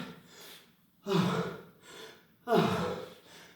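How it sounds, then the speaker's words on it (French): Heavy breathing after an hour-long workout: two loud, rasping gasped inhales with softer exhales between, close to the microphone and with no talk over them. "On souffle bien, ça fait déjà 1 heure."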